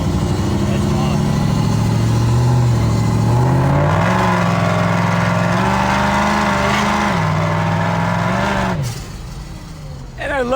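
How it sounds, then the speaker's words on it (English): A supercharged engine revs continuously with a rising and falling drone, loud and close. It then cuts off sharply near the end as the throttle lifts, with people talking over it. "I love hearing that supercharger blow off when you lift it"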